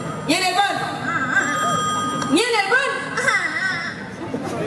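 A mobile phone rings with a melodic, repeating ringtone during a Balinese bondres comedy stage show, recurring in short bursts while people talk over it.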